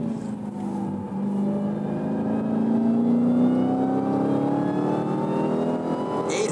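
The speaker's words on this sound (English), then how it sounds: "Gotta love that supercharger whine." Dodge Challenger Black Ghost with a supercharged engine revving up, a loud close roar under a rising high-pitched supercharger whine that climbs steadily over several seconds.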